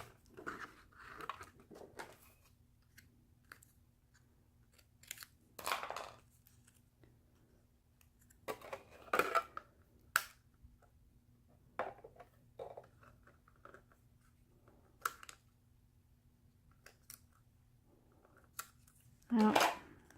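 Scissors cutting small feet shapes from orange paper for a fall craft, with quiet intermittent snips and crisp slicing bursts separated by pauses, close and fairly faint.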